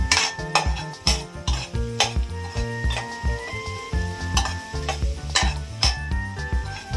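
Rice ingredients frying and being stirred in a pan for red fried rice: a steady, close sizzle with repeated scraping and clinking of a utensil against the pan.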